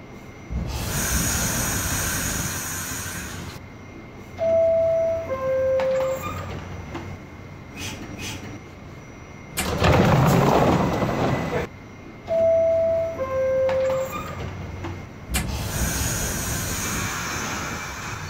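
An R68 subway train in a simulated New York N line rolls on with a low running rumble. Door chimes sound twice, bursts of hissing air come between them, and short spoken announcements sit between the segments.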